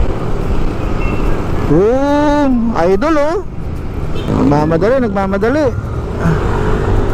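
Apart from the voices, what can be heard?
road traffic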